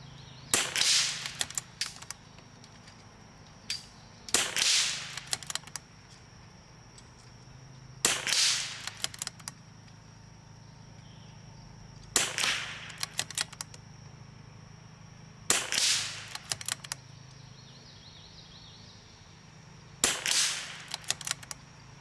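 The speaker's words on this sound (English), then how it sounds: "We are shooting off a ladder at 100 yards at a KYL rack." MCR RIMX .22LR rifle fired at a steel KYL rack 100 yards off, six sharp cracks spaced several seconds apart, each followed by faint ringing from the plates, close and loud with quiet gaps between.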